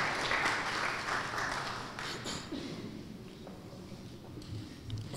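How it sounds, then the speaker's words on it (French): An audience applauds at a formal event, a fairly faint, dense patter of clapping that gradually thins out. "Applaudissez pour lui."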